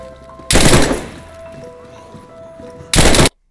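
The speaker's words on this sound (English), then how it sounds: "He just shot my feet" Gunfire in the video game DayZ: two loud, close bursts of rapid shots separated by a quieter stretch of faint ambient tones, the second burst cut off abruptly.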